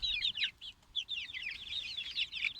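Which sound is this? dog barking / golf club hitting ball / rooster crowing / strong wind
rooster crowing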